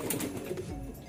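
Pigeons cooing softly in a breeder's loft, low repeated murmurs somewhat distant, with faint background noise.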